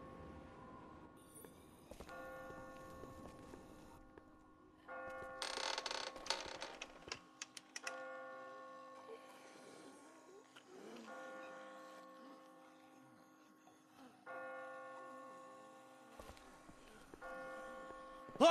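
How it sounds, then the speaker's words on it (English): Bells ring out in The Walking Dead video game, with sustained tolling tones that swell and repeat in several bursts and are mixed with creaking and mechanical clatter at moderate, fairly distant loudness. "I just got spooked by those bells"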